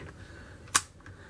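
A Canon VIXIA HF R700 camcorder's lens cap snaps open with a single sharp click, close and brief, over faint background hiss.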